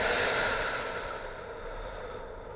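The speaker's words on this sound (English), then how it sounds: "And as you exhale, big relax." A slow, deep exhale during a yoga breathing exercise for lower back relief: one long, steady breathy rush close up, gently fading over a couple of seconds, with no talking.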